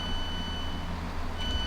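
Steady electronic door-warning beeping from a train in the Train Sim World game at a busy station, a continuous high tone over low engine rumble, moderately loud and unbroken.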